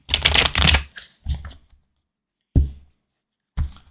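A tarot card deck is shuffled up close, giving quick riffling bursts of crisp card flutter, then several separate short shuffles with silent pauses between, loud and alone.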